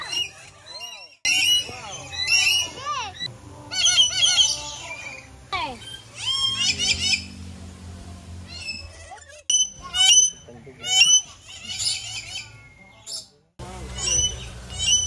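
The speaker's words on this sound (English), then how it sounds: "Sobrang dami ng ibon." Dense chorus of many birds squawking, chirping and calling in an aviary at Cebu Safari, loud and overlapping from near and far in bursts, with people talking now and then.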